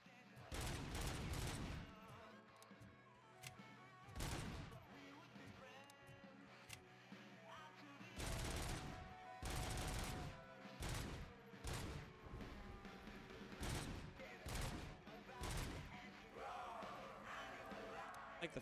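Bursts of full-auto gunfire from a RoboCop: Rogue City firearm, several separate loud volleys of rapid shots with short gaps between them, set over a steady game background.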